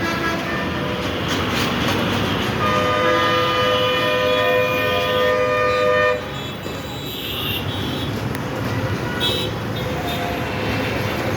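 A train horn sounds in several long blasts over the rumble of rail and traffic in Ashulia, then the horn stops and the rolling noise continues.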